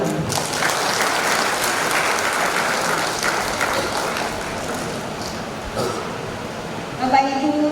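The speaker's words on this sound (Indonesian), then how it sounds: "Tepuk tangan dulu dong." Graduates and guests at a university graduation ceremony give sustained applause, a dense continuous clapping that fades slightly toward the end before a few scattered sounds and a brief voice.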